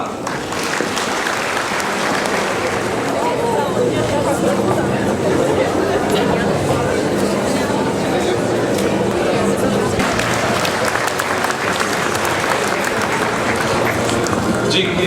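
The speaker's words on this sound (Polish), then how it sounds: "I brawa dla klasy trzeciej" An audience in a secondary school hall applauds a third-year class during a ceremony, a loud continuous roar of clapping with crowd chatter mixed in, sustained for the whole stretch.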